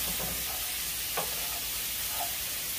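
Seasoned taco meat sizzles steadily in a frying pan while a utensil stirs it, giving a continuous close hiss with a few faint scraping taps.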